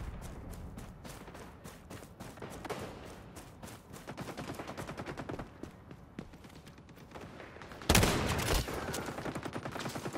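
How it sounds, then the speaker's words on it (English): Rapid gunfire from an online shooter match in XDefiant, a dense run of overlapping shots with a sharp louder burst near the end, no talking over it. "I'm going to try a bit of sniping."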